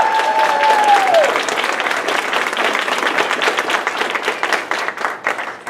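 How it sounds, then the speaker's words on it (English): Audience at a school awards ceremony applauding for a grade-level student, a dense, sustained round of clapping from a crowd lasting several seconds, loud and close, tapering slightly near the end. "we're going to give him an extra special big round of applause, Luke Trask."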